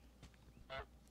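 Two short, faint honks from the goose in Untitled Goose Game sound over quiet background, the second fuller and more nasal than the first.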